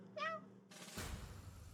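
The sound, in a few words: voice imitating cat meowing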